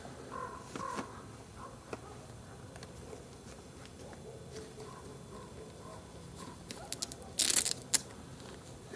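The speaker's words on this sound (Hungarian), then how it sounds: "A holló pár itt van." A pair of ravens calls outdoors near the hilltop village of Pilisszántó, Hungary, with a few distant croaks and caws over faint breeze, without speech.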